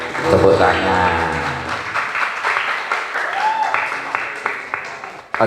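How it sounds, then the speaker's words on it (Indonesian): Applause from an audience at a school orphan charity event, clapping that starts loud and thins out, overlapped by voices and a short sung or spoken phrase. "tepuk tangan."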